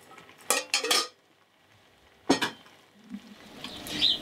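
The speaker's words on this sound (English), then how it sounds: "stir that through." A spoon stirs butternut squash risotto in a pan, with a few quick scraping and clinking bursts against the metal, close and fairly loud, separated by quiet pauses.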